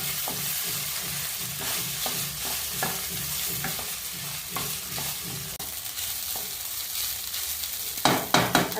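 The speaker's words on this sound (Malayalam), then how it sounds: "നന്നായിട്ട് മിക്സ് ചെയ്ത് കൊടുക്കാം." A spoon stirs cooked quinoa in a hot pan, giving steady rhythmic scraping strokes over a soft sizzle. The strokes grow sharper and louder toward the end.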